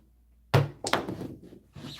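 Dice thrown onto a craps table at a casino, a sharp thud as they land followed by quick clattering tumbles and a final soft knock, close and brief.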